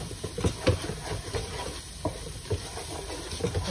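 Mushrooms frying in a pan for cream and vegetable pasta, stirred continuously, give soft sizzling with scattered scraping and clinking of the utensil against the pan, close and fairly quiet, with no talking.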